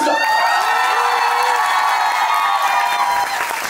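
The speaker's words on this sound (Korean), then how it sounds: "자, 우리 배우들의 큰 박수로 오시겠습니다" A loud, dense roar of cheering, whooping and clapping from a theater audience at a musical's curtain call, continuous throughout with high-pitched shouts riding over the applause.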